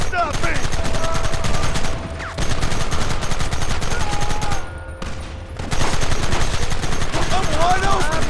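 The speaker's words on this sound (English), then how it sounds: "Open fire!" Loud rapid gunfire rattles on through a Red Dead Redemption Remastered shootout, dense bursts broken by two short lulls, with shouted voices mixed into the fighting.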